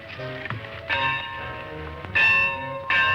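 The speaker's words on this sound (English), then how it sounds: "There goes the bell." A school bell rings in repeated bright, metallic bursts with long ringing tails, close and loud, each strike fading before the next swell.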